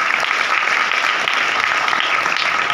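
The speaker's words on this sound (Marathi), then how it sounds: "त्यांच्यासाठी एकदा जोरदार टाळ्या वाजवूया" Dense, steady applause from an audience at a prize ceremony for a children's drawing competition in Talegaon Dabhade, loud and continuous throughout.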